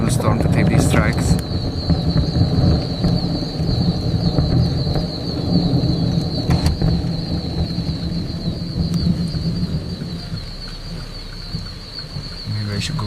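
Loud, rolling thunder from Tropical Storm Ernesto's landfall in Florida in 2006 rumbles over steady rain, fading gradually, with faint bird calls in the background.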